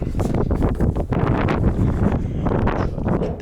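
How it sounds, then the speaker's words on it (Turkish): Strong wind buffets the microphone in an open field in continuous rough gusts, a loud blustery rumble with rustling texture throughout. "şimdi güzel rüzgar sesi geliyordur."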